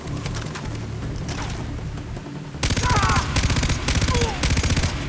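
Rapid automatic gunfire in the video game Far Cry 3 erupts midway, loud dense bursts over steady game ambience and faint bird calls, following a quieter stretch of background.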